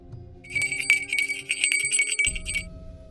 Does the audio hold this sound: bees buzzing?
no